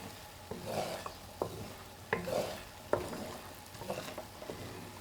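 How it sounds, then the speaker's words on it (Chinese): A spoon stirs a pot of simmering vinegar soup base, giving several soft scraping and swishing strokes over a low bubbling hiss, close and fairly quiet. "再次搅拌均匀，熬至5分钟。"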